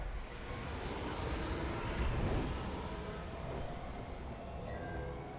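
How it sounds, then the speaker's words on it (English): A starfighter engine throttles up in the Star Wars Squadrons video game, a faint, continuous jet-like roar that swells gradually and holds as a steady rushing drone. "Now, throttle up and deploy out of the hangar."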